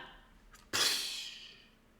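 A human voice imitates a sneeze: a short breathy intake, then one sharp, loud explosive burst that trails off into breathy noise, heard close and alone.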